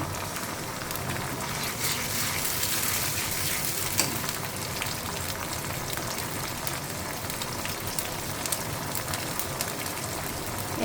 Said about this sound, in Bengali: কাঁচামরিচ পেস্ট তেলে দিয়ে দিয়েছি তেল গরম হওয়ার পর এখন হলো হালকা একটু ভেজে নিলাম